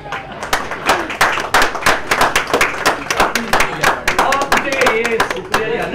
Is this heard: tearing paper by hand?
no